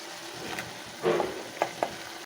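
Ground onion and tomato paste sizzling in a pan for home-style chicken gravy, a steady frying hiss with a louder burst as the paste goes in and a couple of sharp stirring clinks afterward.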